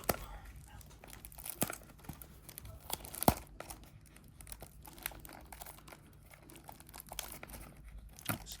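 Packaging of a trading card display box being torn open, heard as a steady run of crinkling and tearing plastic with scattered sharper rips and a soft voice speaking now and then.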